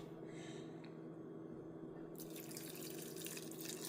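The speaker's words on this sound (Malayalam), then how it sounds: "വെള്ളം ഒഴിക്കട്ടെ" Water is poured over soaked, washed moong dal and urad dal for idli batter. A soft running trickle is heard first, then a louder, brighter gush of water for the last couple of seconds.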